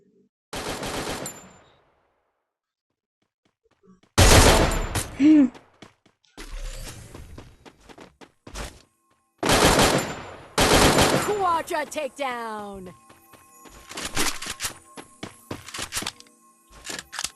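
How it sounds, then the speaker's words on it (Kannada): Sharp bursts of video game gunfire: single loud shots and rapid rattling volleys, separated by brief silences. "ಇವಾಗ ಹೆಡ್ ಶಾಟ್ ಹೊಡಿತೀನಿ"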